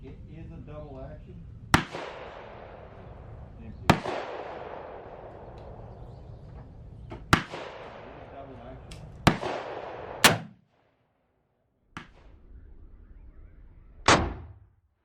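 A Colt Walker black-powder revolver loaded with heavy Eras Gone Dragoon bullets fires about seven loud, sharp reports spaced a few seconds apart, each followed by a rolling outdoor echo that trails away.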